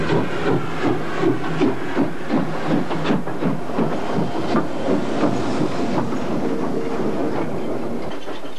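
A steam train with passenger coaches climbs through the steep Barkley Pass in South Africa, its rhythmic chuffing and hiss loud and near, with wheel clatter rolling on in a steady wash.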